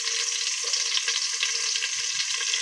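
Onion and garlic sauté in hot oil, giving a bright, continuous sizzle up close with a few soft stirring knocks, no voices.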